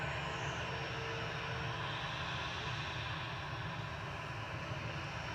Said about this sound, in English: Still waiting for the A380 to go. It is pushing back though.